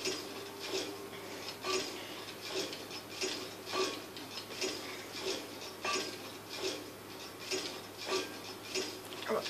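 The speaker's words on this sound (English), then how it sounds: "You can just keep spamming A, like, you can hear me spamming it" Rapid, light plastic clicking of a game controller's A button tapped over and over while playing Skyrim, a steady irregular run of small ticks at close range with no talking.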